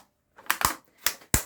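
Plastic tub of mascarpone cheese opened by hand for a chocolate cake, giving a few sharp crackling pops and snaps close up, with brief quiet gaps between them.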